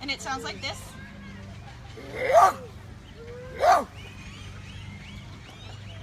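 A zookeeper's voice imitates a maned wolf's roar bark with two loud, short, hoarse calls about a second apart, after a few words of nearby speech, with faint background chatter.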